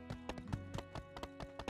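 Horse hooves clip-clop in a steady, quick rhythm of close, distinct hoofbeats from a horse ridden in My Time at Sandrock, with nothing else heard alongside them.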